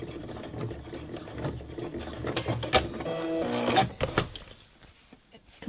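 Sewing machine stitching a seam on a wedge pillow cover, a short run of mechanical whirring after some handling clatter, close and moderately loud, fading to quiet handling noises.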